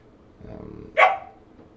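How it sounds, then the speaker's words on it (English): A young dog, a puppy, gives a single sharp bark indoors after a brief murmur, moderately loud and close, set against quiet room background. "Oh, there's the dog."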